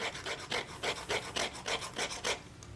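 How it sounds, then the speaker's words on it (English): A knife trims the edge of a leather wallet in a series of about nine quiet, close, rhythmic rasping strokes, evenly spaced with no talk. "occasionally we'll actually take the knife and, cut it down like this"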